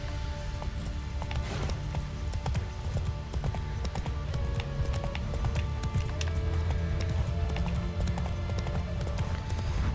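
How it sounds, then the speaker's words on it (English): A horse gallops in The Witcher 3: Wild Hunt, its hooves clip-clopping in a quick, steady rhythm for ten seconds over outdoor game ambience. "Come on, good horse."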